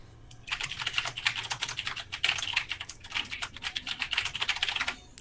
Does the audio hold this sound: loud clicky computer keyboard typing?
yes